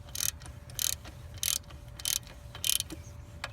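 A ratchet wrench tightens a 15 mm alternator bolt on a Jeep Liberty, clicking in five evenly spaced quick bursts, close and fairly quiet, with no talking.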